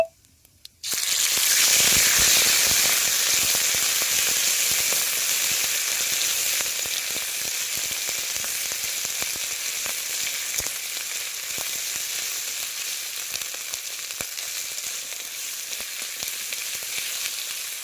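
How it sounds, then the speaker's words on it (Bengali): Ground cumin and ginger paste frying in hot oil for a Bengali fish-head curry, a loud continuous sizzle that starts abruptly and holds steady with scattered crackles, close and without voices. "আর এখানে বেটে রেখেছিলাম জিরে আর আদা দেখো দিয়ে দেবো"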